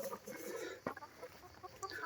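Chickens clucking softly in a coop with a flock of about seventy hens and a black rooster, faint murmuring calls and a brief scratchy knock, fairly close but quiet.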